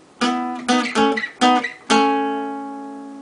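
Several plucked guitar notes ring out close and clear, alternating between two pitches in a loose rhythm, the last note left to sustain and fade.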